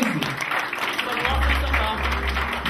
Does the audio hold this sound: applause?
yes